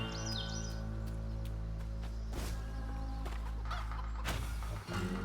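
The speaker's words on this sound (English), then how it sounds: "Y'all hear that stock chicken sound effect?" Stock chicken sound effect from the South of Midnight video game, a run of clucks and squawks over a steady low game-music bed, with no talking.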